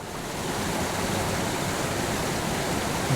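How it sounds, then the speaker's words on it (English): Small waterfall in a mountain creek pouring steadily, a dense continuous rush of splashing water close by with no talk over it. "We have a little waterfall up here."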